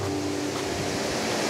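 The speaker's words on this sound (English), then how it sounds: "This is the second waterfall here, and this one's called Horseshoe Falls" Horseshoe Falls, a two-part waterfall among ferns, pours with a steady, dense roar of falling water, close and continuous, with no voices.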